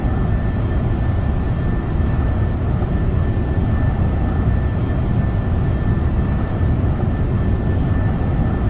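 A Boeing 720 jet in X-Plane 12 rolling down the runway for takeoff, a steady loud low engine roar with a faint whine, unbroken throughout.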